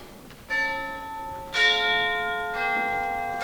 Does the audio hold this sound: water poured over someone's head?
no